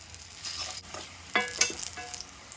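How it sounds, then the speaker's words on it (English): Plantains sizzle and crackle as they fry in a hot pan, with occasional scraping and stirring sounds up close. "we're going to finish frying on the other side for 1 minute"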